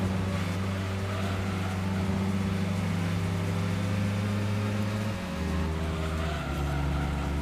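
A Volkswagen Beetle races in Gran Turismo 2 during a one-make event, its engine giving a steady, loud droning hum throughout, with a shift in pitch about two-thirds of the way through.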